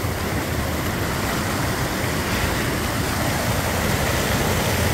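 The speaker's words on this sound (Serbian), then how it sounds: "Evo, ulazak vode u Perinku" Shallow water speeds up and pours into the mouth of Perinka cave, a steady, loud broadband rush with no break.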